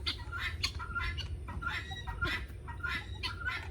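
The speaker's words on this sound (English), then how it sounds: "You can hear the hen in the background." A hen clucks repeatedly in the background, faint but steady, a series of short rhythmic calls over a low rumbling outdoor ambience.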